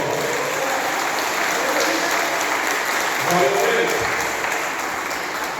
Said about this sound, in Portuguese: Você pode dar uma forte salva de palmas para o Senhor